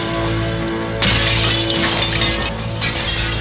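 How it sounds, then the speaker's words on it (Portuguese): Mirrors shatter in a sudden loud crash, followed by a spray of jangling, tinkling glass over a sustained low tonal background. "Os espelhos estilhaçam."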